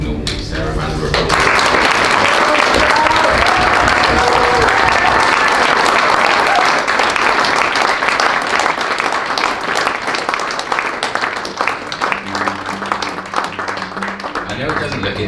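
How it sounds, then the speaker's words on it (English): Wedding guests break into a sustained round of applause, dense close clapping that fills the room for over ten seconds before thinning out as a voice returns. "I think we can all give Sarah a round of applause."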